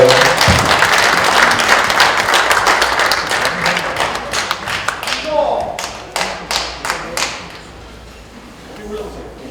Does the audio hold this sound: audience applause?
yes